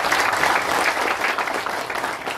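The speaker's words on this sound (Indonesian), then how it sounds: "Kita beri tepuk tangan dulu untuk ini" Audience applause at a provincial governor's visit to flood victims in a village, a brief burst of dense clapping from a gathered crowd, steady and fairly close.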